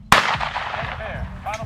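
Shotgun fired at a sporting clays match, one sharp loud blast near the start with a rolling outdoor echo, followed by a fainter second report in the distance.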